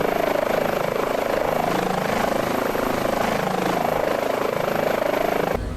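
Airbus H145 helicopter in Microsoft Flight Simulator, its rotor and turbine engine running at steady speed in a continuous, loud whine and thrum that holds level throughout and cuts off abruptly at the end.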